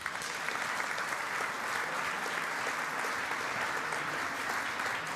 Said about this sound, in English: This was your applause.